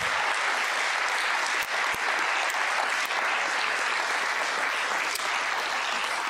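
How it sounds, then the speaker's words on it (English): Church congregation at a Sunday service for an eldership appointment gives a sustained round of applause, a dense, steady clapping that fills the room throughout without pause. "Can we give them one more round of applause?"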